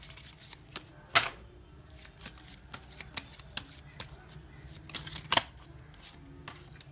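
Tarot cards riffle and slap as they are shuffled and drawn during a Hindi love reading, giving a steady run of soft flicks and sharper snaps, close and fairly quiet.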